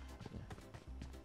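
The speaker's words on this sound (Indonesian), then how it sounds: "Gue denger step." Footsteps in the PUBG Mobile video game, a quick series of soft, evenly spaced thuds, faint and close, in a short burst.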